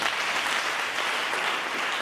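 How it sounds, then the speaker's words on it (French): An audience applauding for Maman Pamela at a gathering, dense sustained clapping at a steady loud level for the whole stretch, no talking over it. "Maman, encore une fois, on acclame pour elle."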